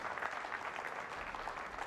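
A crowd applauds at a nine-ball pool ring game held at the Basketball Hall of Fame, giving steady, even clapping that fills the room at moderate distance, with no break.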